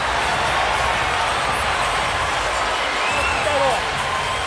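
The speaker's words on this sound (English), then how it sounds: "the crowd is wildly excited for Pacquiao as he gets a lucky break" A boxing crowd at a Pacquiao versus Bradley fight roars in a dense, sustained wall of cheering and whooping, loud and steady throughout with a slight swell near the end.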